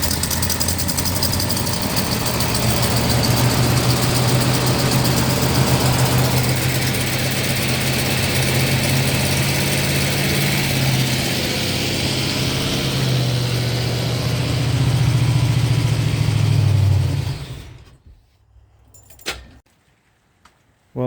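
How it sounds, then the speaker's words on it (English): A 1972 Buick Sportwagon that sat unused for years runs after a restart, its engine holding a loud, rough, steady idle up close before cutting off into near silence, followed by a couple of faint clunks. "Our goal was to see if we could get this car started after sitting here for so many years, and we did."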